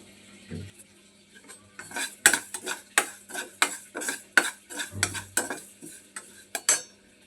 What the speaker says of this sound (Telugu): నువ్వులు కూడా వేయించుకోవాలి.